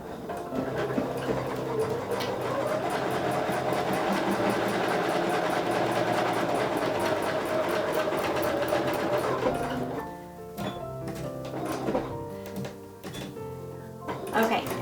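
A sewing machine stitches quilt binding for a sampler quilt in one long, steady run lasting about ten seconds, close and loud, then stops for lighter, intermittent mechanical clicks and handling.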